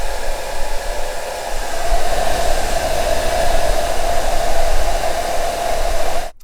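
A hair dryer blows steadily and loudly on hair being styled into a quiff, a constant whooshing roar that cuts off abruptly at the end.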